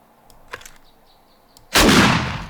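One loud shotgun shot fired with a choke mod in the game 7 Days to Die, a sudden heavy boom trailing off over about a second, preceded by faint handling clicks.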